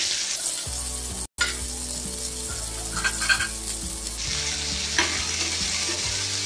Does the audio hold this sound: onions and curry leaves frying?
yes